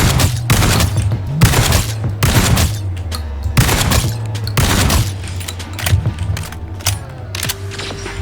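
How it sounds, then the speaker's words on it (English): Shotgun blasts boom repeatedly in the Fate Trigger shooter game, about ten punchy shots at a steady pace over a low droning background, close and loud, no talk. "Yeah, so this is a shotgun."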